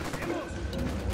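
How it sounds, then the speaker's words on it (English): Video-game gunfire during a firefight, a dense run of rapid shots rattling continuously under radio chatter and voices for about a second. "I'm opening fire on these shitheads."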